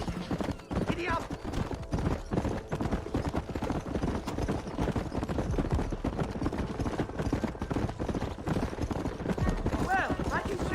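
Horse hooves galloping in the Red Dead Redemption video game, a fast continuous clip-clop rhythm over music and effects, with occasional whinnies and urging voices.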